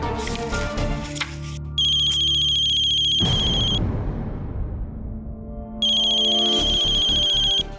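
A telephone ringtone rings loudly in repeated electronic bursts during an outgoing call, with two clear ringing spells separated by a brief gap of muffled rumble.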